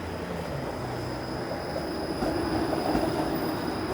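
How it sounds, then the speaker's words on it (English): Toronto streetcar on Queen East on a summer evening, giving a steady rail rumble with a faint wheel squeal and a rising roar near the end, with no voices. "I am about to jump onto this streetcar here."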